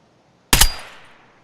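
A single rifle shot in Escape from Tarkov fires as one sharp, loud crack with a short trailing decay, alone against near silence.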